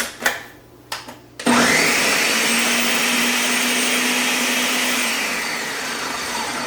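Kitchen blender chopping apples into a coarse mash, starting abruptly after a few clunks and running as a loud, steady whirring motor hum that eases slightly toward the end.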